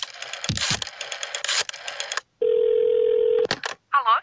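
A telephone in a 1980s-style TV commercial: a sustained steady tone sounds, then is cut off by quick electronic dialing beeps after a burst of busier background noise, with no speech.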